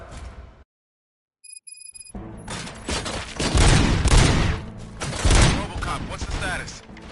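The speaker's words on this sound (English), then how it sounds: "Gunshots? What's going on?" Gunfire in the video game RoboCop: Rogue City erupts after a brief silence and a few chiming tones, with dense, loud volleys of shots and booming impacts that rise and fall across the clip.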